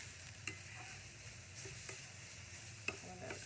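Broccoli cooking in a pan, a soft steady sizzle with a few light stirring clicks, fairly quiet and close.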